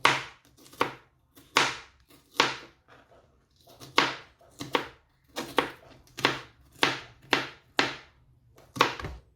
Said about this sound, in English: Now I've sliced them a bit finer because they are going in my egg